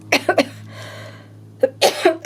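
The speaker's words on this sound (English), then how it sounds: "that cough will still keep breaking through" A few sharp, close coughs in a short burst, a quiet pause with a low hum, then another cluster of coughs.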